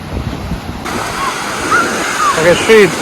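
Sea water washing and splashing at a Coromandel Peninsula beach, a loud, broad rush of surf close by, with birds calling faintly in the background.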